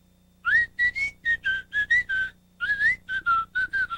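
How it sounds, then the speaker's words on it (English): Clear, melodic whistling of a cheerful tune, a quick run of bright pitched notes in phrases with a brief pause midway, close and loud with no talking. "Now, whistle along with me."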